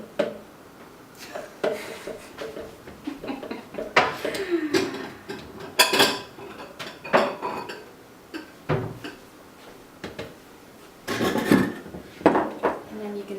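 A spatula scrapes and taps against a container of Trader Joe's açaí puree, repeated short scraping strokes and knocks with pauses between, close and fairly loud.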